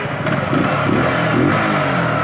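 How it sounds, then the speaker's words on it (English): A Zontes G125 motorcycle with a high-revving 125 cc engine runs close by, its steady buzzing note rising and falling slightly as the throttle is worked, with no voices over it. "this is a high revving engine"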